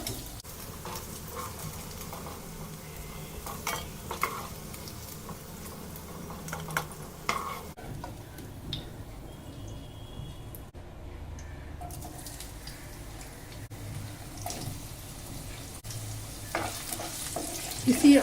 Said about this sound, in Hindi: इसी ऑयल में प्याज को भी फ्राई कर ले रहे हैं।